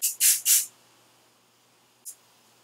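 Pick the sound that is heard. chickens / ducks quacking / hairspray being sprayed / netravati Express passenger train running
hairspray being sprayed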